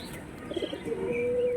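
Pigeons of the Lotan and Madras breeds coo softly at close range, a short burst of low warbling notes that settles into one sustained tone.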